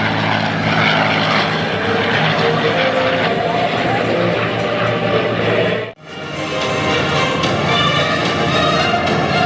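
A loud propeller plane roars past at close range at an airshow, its engine drone cutting out briefly as it passes, then returning at full strength.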